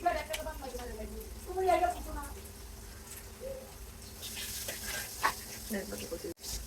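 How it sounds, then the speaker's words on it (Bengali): Onion paste frying in a pan while being cooked until soft, a soft steady sizzle running under a voice with light clinks of a utensil. "কিছুক্ষণ ভেজে নিব, নরম হওয়া পর্যন্ত অপেক্ষা করব।"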